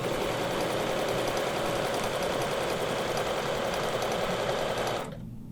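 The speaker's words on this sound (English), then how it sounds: "Needle down, and we're going to stitch all the way down that line." A sewing machine running steadily as it stitches down a marked line in ruler work quilting, a continuous rapid mechanical whir at close range that stops abruptly near the end.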